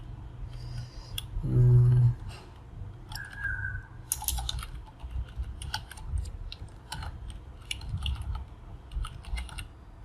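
Fast clicking keystrokes on a computer keyboard tap out a name and email in irregular bursts, fairly close but quiet, with a brief electronic tone near the start and no talk.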